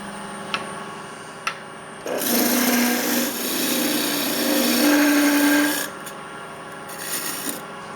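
A wooden handle for a quiro is turned on a lathe, the chisel cutting in with a loud, close rasping scrape over the motor's hum for about four seconds, with a few light taps before and after.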